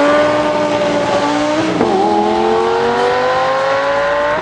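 A Lamborghini Gallardo Superleggera launches hard, its engine note climbing loudly through the revs with a brief dip at a gear change before pulling upward again, close and with no voices.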